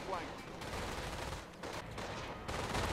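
Rapid gunfire and grenade blasts from a World War II battle in the Company of Heroes strategy game, dense overlapping bursts rattling continuously at moderate level with no pauses.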